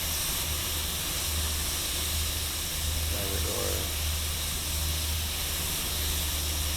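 A Pere Marquette N-1 2-8-4 Berkshire steam locomotive in Train Simulator Classic gives off a steady, loud steam hiss throughout, over a low rumble, while someone briefly speaks partway through.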